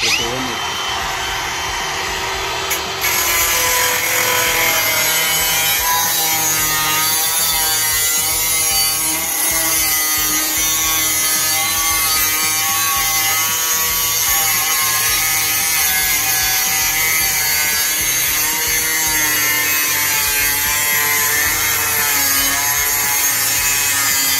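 A TRUPER cordless angle grinder makes cuts with a loud, sustained high-pitched whine and grinding that runs almost nonstop, close up, after a brief quieter start.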